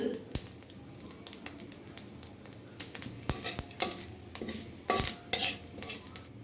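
Ginger paste stirred in a pan for a vegetarian chhana curry, with repeated sharp clinks and scrapes of a metal spoon against the pan over a light sizzle, irregular and close.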